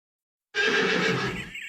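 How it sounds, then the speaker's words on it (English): A horse neighs loudly and close, one long whinny starting abruptly after silence and trailing off, with no talking. "A horse is a horse, of course, and no one can talk to a horse, of course."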